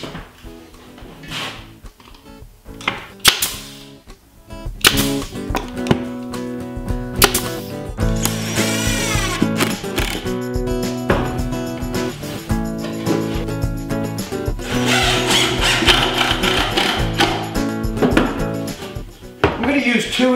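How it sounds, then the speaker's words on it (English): A hammer taps small nails to tack a board in place on a workshop wall for a clamp rack, giving a few sharp knocks amid clatter and handling noise, with someone talking over parts of it. "then I'll use a few small nails to tack the board in place"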